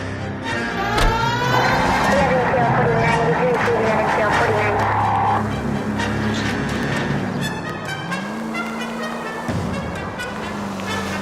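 In the video game L.A. Noire, a 1940s car drives along with a steady engine drone and road noise, rising and shifting pitch as it speeds up, while voices talk over it.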